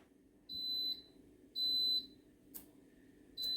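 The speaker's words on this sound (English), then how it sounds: "The timer's just gone off." An air fryer timer beeps three times, each a clear high electronic tone lasting about half a second, evenly spaced over a faint background hum, with a soft click between the second and third beeps.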